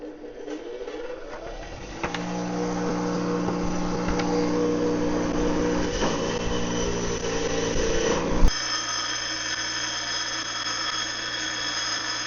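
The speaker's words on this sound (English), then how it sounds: "I'm going to grind it down to a point so I can fit the knob on there." A power tool grinds a metal part down to a point while working on a 1995 Jeep dash. A steady, loud whine runs for several seconds, then cuts sharply into a lower spin-down hum.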